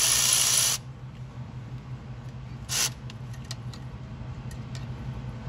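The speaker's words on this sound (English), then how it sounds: "Let's go ahead and take our T45 and remove that bolt." A T45 Torx driver loosens the turbocharger top-line bolt on a Ford F-150 2.7 EcoBoost, with a loud rasping burst up close at first, a shorter burst later, and faint scattered ticks in between.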